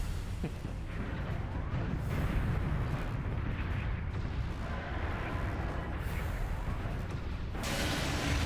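Missile fire and explosions in the video game Metroid: Other M roar as a dense, continuous wash of booming blasts and rumble that stays loud and steady throughout.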